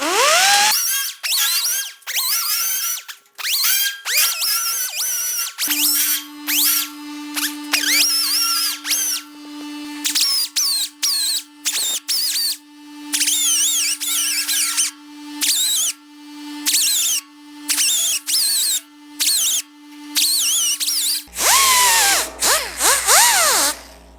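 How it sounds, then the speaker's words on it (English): A burr tool and sanding discs grind down a weld on a GTO restomod body in a shop: repeated high whining bursts of a power tool, starting and stopping in short runs. "let's start with a burr tool just to knock the top off, and then we'll get the sanding discs in here"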